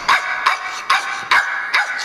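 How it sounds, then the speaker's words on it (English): Ein, the small dog in Cowboy Bebop, barks in a corridor while running in circles, giving five sharp barks at a quick, even pace, fairly close and alone. "barking and running in circles."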